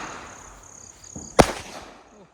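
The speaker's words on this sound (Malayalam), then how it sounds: "ഇവിടെ 2 പടക്കം ഒരുമിച്ച് വെച്ചിട്ട് പൊട്ടിക്കല്ലോ" Two firecrackers set off together at a family Vishu celebration burst as one sharp, loud bang that dies away quickly against quiet outdoor background noise.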